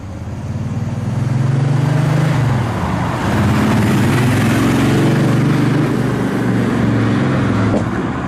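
The V12 engine of a Chevrolet Corvette ZR-12 prototype runs steadily close by, a rough, droning rumble that holds without pause, slightly uneven in tone, sounding less than healthy.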